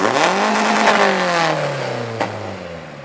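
A Geo Prizm fitted with a 7AFE engine revs up and then winds down, the engine note sweeping smoothly and loudly up and back before a brief knock near the end.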